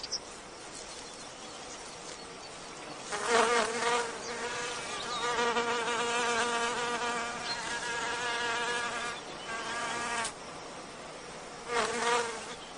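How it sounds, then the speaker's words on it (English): A male wasp buzzes while trying to mate with an orchid, a steady insect drone that swells loud around three seconds, holds through the middle and returns in a short burst near the end, with no voices. "As the male wasp nuzzles forward in his attempts to mate, he butts the pollinia which stick to him like yellow horns."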